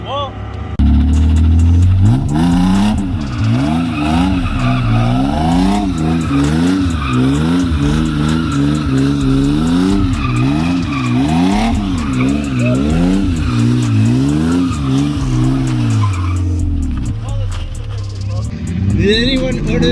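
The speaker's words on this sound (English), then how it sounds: "I'm gonna kill these tires off." LS-swapped BMW E36 drifting with loud, sustained tire squeal and a revving V8 surging and falling in rhythmic waves throughout, with excited voices shouting over it.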